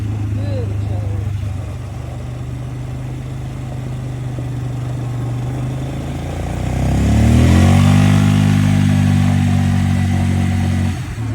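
A Polaris Sportsman Magnum ATV with a newly tuned carburetor idles and then revs up hard, its engine note climbing in pitch and loudness and holding high. The sound is close and runs alone.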